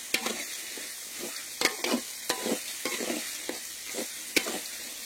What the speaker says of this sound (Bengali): নাড়লে একটা উপকারও আছে, মশলাটা ভালো ভাজা হয়ে যাবে।